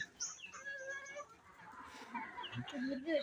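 Desi hens clucking and squawking around feed on a small backyard poultry farm, several close bird calls overlapping, fairly quiet, with faint voices in the background.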